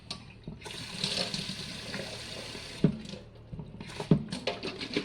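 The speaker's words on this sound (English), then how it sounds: "put the water setting so that it stays as a narrow tube of water" A narrow stream of tap water rinses out a container for recycling, with steady running water hissing throughout, interrupted by a few sharp knocks and sloshes as the container is handled and shaken, close and alone without talk.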